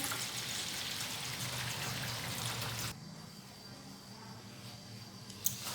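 Dirty rinse water from washing grain is poured away in a steady, splashing rush that stops abruptly partway through, leaving quiet room tone with a small knock near the end.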